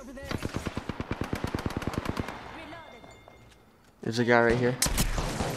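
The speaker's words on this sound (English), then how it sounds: "Is that you shooting?" Rapid automatic gunfire from an Apex Legends match crackles in a fast, even burst of about twenty shots, then pauses before a louder, denser volley; a player speaks briefly over the action.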